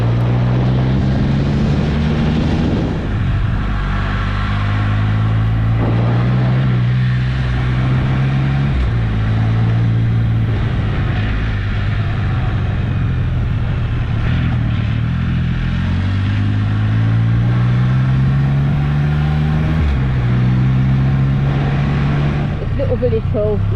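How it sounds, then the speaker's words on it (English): A Can-Am Spyder F3-S trike with a 1300cc engine roars loudly while being ridden, its engine note rising and falling through gear changes under steady wind rush. "I had comms failure at this point, but the bonus is you can hear the bike."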